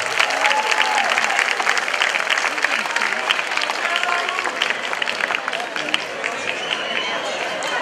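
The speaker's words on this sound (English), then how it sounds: "Round of applause." Audience applause for a saxophonist at a live outdoor concert during a street feast, a dense, steady round of clapping from a nearby crowd that holds through the whole stretch, with a voice talking over it.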